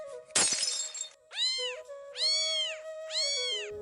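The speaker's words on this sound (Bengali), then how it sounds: "অমনি বিড়ালটা ম্যাও ম্যাও করে ডেকে উঠল।" A cat meows three times in quick succession, each a rising-falling wail, following a sharp crash like a clay cooking pot breaking; close and fairly loud with a steady tone underneath, no talking.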